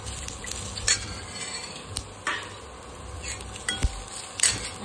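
Sesame seeds and garlic roast in a pan for a village-style drumstick vegetable dish, with a soft continuous sizzle punctuated by several clinks and scrapes of a spoon stirring against the metal.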